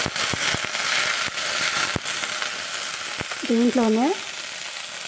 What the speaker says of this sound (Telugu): కొద్దిగా పుదీనా, కొద్దిగా కరివేపాకు, కొద్దిసేపు వేయించుకుందాం।